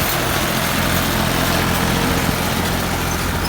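Alghazi tractor engine running in high gear, a loud, continuous diesel roar with a steady low throb and broadband rumble, close and unbroken throughout, with no voices.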